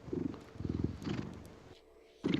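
Low rumbling purr in pulsing bursts, close by, with a brief quiet gap before it resumes.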